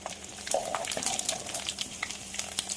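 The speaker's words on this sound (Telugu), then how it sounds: "ఇప్పుడు వెల్లుల్లిపాయలు కొట్టి తీసేసి వదిలి పెట్టుకున్నాను ఇవి కూడా వేసేసి చక్కగా ఎర్రగా వేయించుకోవాలి" Crushed garlic and cumin seeds frying in hot oil in a pan, with a steady close sizzle and occasional stirring scrapes.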